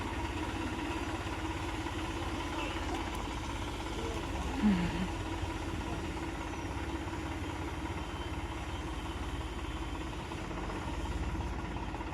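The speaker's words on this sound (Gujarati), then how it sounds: "ગાડી ખેંચે ટ્રેક્ટર હારે" A tractor engine idles and runs steadily nearby while towing a broken-down car, a continuous low rumble with a slight rise partway through.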